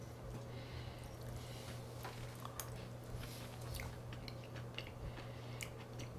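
Crunchy chewing of a bite of keto tuna casserole topped with potato chips, close to the mouth and fairly faint, with soft repeated crunches over steady background hiss and no talking.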